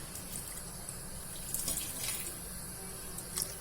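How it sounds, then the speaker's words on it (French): Water pours steadily into a cooking pot of peppers and rice, a continuous close splashing stream with a few brighter splashes, and no one speaking. "maintenant, on va rajouter de l'eau. Voilà, je vais rajouter à mi-hauteur"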